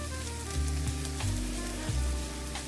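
Hyacinth beans (avarekalu) fry in a pan with a steady close sizzle, broken by a few soft stirring scrapes, no voices.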